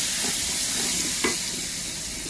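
Onions fry with ginger, garlic and chilli paste in a pan, a loud, continuous close sizzle and hiss with a single brief scrape of the stirring spoon partway through.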